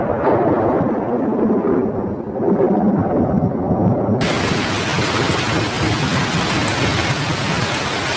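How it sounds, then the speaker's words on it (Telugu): A downpour and thunder in an animated scene make a loud, dense wash of rain with deep rumbling underneath. About halfway through, the rain suddenly grows brighter and heavier and keeps pouring steadily. "వర్షం శబ్దం ప్రారంభించబడింది"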